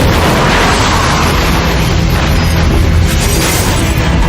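A smoke explosion bursts from the rear of a building's third floor, a loud, sustained roaring blast with dense rumbling noise that fills the whole stretch without letting up.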